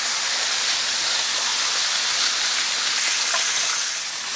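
Food sizzles on a hot cooking surface after being flipped, a loud, dense, continuous hiss and crackle that stays steady throughout, with no talking.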